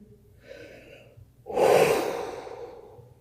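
Heavy breathing during a mobility and cardio workout, a soft inhale followed by a strong, loud exhale gasp, close up, with no talk over it.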